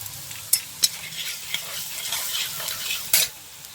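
Ginger hits a frying pan for a rohu fish curry, giving a crackling sizzle with several sharp spoon knocks and scraping stirs against the pan, close and fairly loud.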